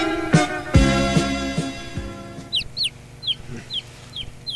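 Chickens cluck in a rural comedy scene, with a few thumping knocks early on and then a run of short, chirpy clucks that stay fairly close and clear, with no talking.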